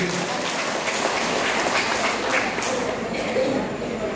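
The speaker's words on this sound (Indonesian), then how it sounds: "Tepuk tangan dulu." A dense burst of audience applause at a church gathering of elderly people in Medan, many hands clapping at once, loud and continuous throughout.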